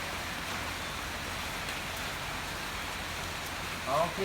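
Steady, heavy rain pours during outdoor setup of stage and speaker equipment, a dense even hiss that fills the whole stretch, with a brief louder splash or knock near the end.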